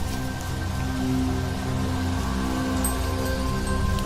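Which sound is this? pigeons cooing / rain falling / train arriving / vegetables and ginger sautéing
rain falling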